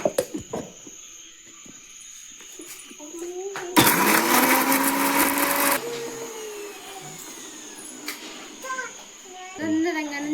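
A kitchen mixer grinder crushing garlic, ginger and green chillies for a Kerala-style kappa biryani masala, a loud whirring burst lasting about two seconds, with a voice and household sounds before and after.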